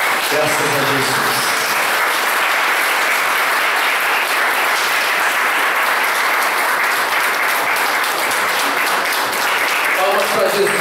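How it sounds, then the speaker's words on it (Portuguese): An audience at a spiritist lecture applauds steadily, dense continuous clapping from a crowd that stays loud throughout, with faint voices underneath at the start and end. "Palmas para Jesus, gente."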